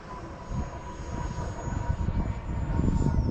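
A 64mm EDF Viggen RC jet on 6s power flies past with a steady high-pitched ducted-fan whine over wind rumble, growing slightly louder toward the end.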